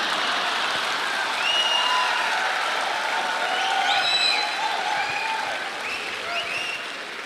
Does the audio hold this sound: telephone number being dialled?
no